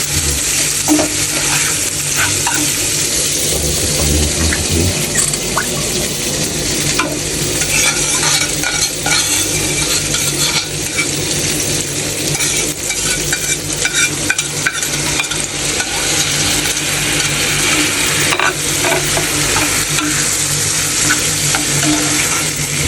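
Boiled beef spleen frying in a pan with a loud, constant sizzle, overlaid by repeated scraping and clinking as a utensil stirs it.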